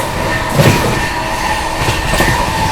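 Heard from inside the 12559 Shiv Ganga Superfast Express, the train races through Panki Dham station without stopping, a loud continuous rumble with rhythmic wheel clatter and brief rail squeals.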